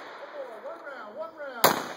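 A single sharp gunshot fired on command at a shooting lesson cracks loudly near the end, after a quiet stretch of faint background tones.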